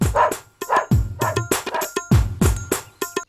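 A dog barks repeatedly in quick, loud bursts, close by, with short yips mixed between the barks.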